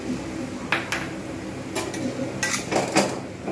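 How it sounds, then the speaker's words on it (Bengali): Spices cook down into a thick paste in a pan while a spatula scrapes and knocks against the metal in several uneven strokes over a low background hiss, close up. "এবারে ভালো করে আমি কষবো"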